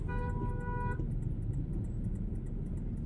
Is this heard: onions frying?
no